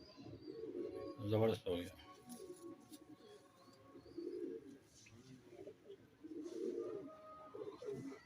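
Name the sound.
Firozpuri pigeons cooing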